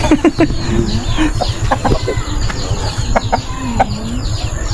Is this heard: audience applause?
no